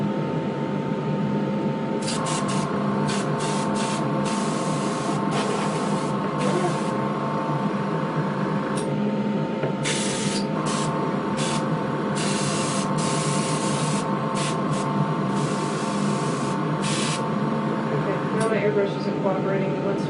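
An airbrush hisses steadily while spraying paint to shade a sorrel chestnut model horse, the spray continuous and close with brief on-off bursts of higher hiss throughout.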